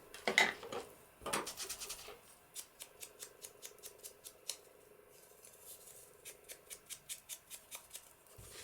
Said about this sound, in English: Punch that corner.